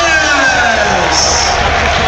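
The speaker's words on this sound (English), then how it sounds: "Oh, and there's a little extra applause as Ryan Ennis is the last man to make his way out." Crowd applause and cheering at a Forest Green Rovers v Southend United football match as a 6'6" player walks out last, a dense, steady roar of clapping and whoops filling the stadium without a break.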